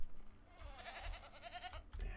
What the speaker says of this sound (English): See, it won't let me milk that goat.